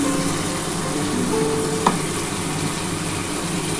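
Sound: spices sizzling as they are fried in a pan

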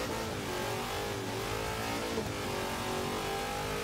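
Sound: Hoonigan car engine revving in Forza Horizon 3 video game

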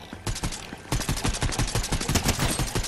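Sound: gunfire in the video game Fortnite

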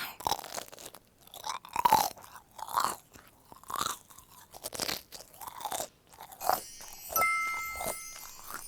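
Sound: chewing a marshmallow-filled snack

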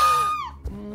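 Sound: character's scream in video game What Remains of Edith Finch

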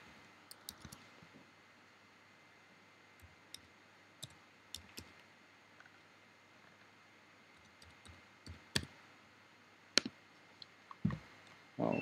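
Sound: typing a serial number on a computer keyboard

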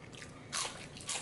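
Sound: biting crunchy air-fried potato fries

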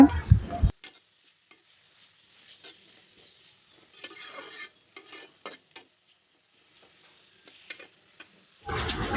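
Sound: stirring and frying ground coconut spice paste in oil

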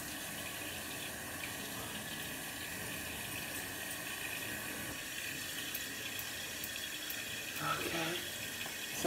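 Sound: water running from tap while wetting face at sink

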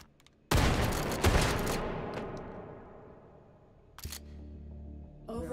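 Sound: shotgun shooting boxes in video game Hot Dogs, Horseshoes & Hand Grenades

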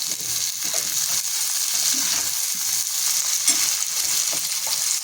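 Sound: sautéing crushed garlic and onion in a pan

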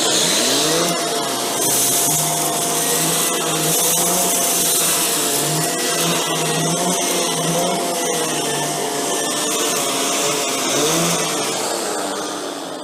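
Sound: Shark Stratos vacuum cleaner with turbo wheel on medium pile carpet

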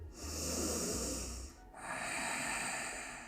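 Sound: inhaling breath during yoga breathing cycle

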